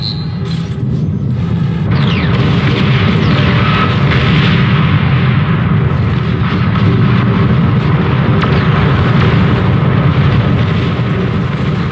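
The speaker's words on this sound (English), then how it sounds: "Nuclear missile launch detected." A nuclear missile launch and explosion in the real-time strategy game Beyond All Reason, a loud continuous low rumbling roar that fills the whole stretch at steady high intensity, with no talking.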